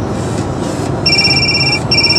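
Incoming-call alert in a car on a road trip near Fresno: a steady two-tone electronic chime starts partway through and repeats twice with a short gap, sounding over road and cabin rumble, with no talking.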